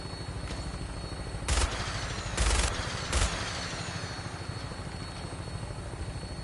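A vertibird aircraft flies over the Commonwealth in Fallout 4, its steady rotor thrum droning continuously while three short bursts of machine-gun fire crack out in quick succession.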